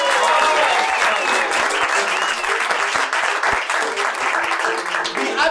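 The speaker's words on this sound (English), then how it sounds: "Please give another round of applause for the delightful Matthew Hadgrove" Audience applause at a live puppet comedy show during a comedy festival, a loud, dense, sustained wash of clapping from a crowd that holds steady from start to finish.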